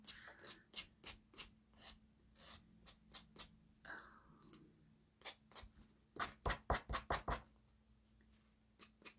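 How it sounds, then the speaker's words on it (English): Close, rhythmic rasping strokes of hand sanding a wooden paintbrush handle, in quick bursts with short pauses between. "So you're just sanding off the excess."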